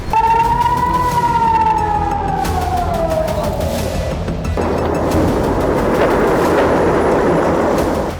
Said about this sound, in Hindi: इसी दौरान आयरन डोम एक्टिव हो गया, सायरन बजने लगी।